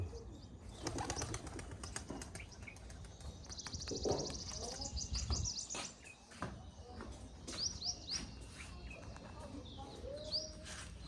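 A group of five pigeons released and taking flight, wings flapping in bursts amid faint chirps and outdoor rustle, with voices nearby.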